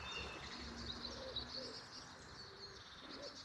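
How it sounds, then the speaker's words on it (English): Eurasian blackbird, European robin and Eurasian wren sing together outdoors at an ancient site, a faint, dense mix of overlapping high warbles and trills continuing steadily with no voices. "Now we can hear more birds. Eurasian blackbird, European robin, Eurasian wren."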